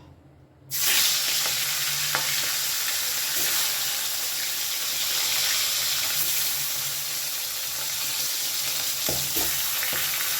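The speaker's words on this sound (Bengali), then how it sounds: "কড়াইতে পরিমাণ মতো সর্ষের তেল দিয়ে দিচ্ছি তেল গরম হয়ে গেছে এবারে তেলের মধ্যে আমি মাথাগুলো দিয়ে দেব" Fish heads drop into hot mustard oil in a wok and burst into a loud, close sizzle. The sizzle then holds steady, with a few small pops and clinks.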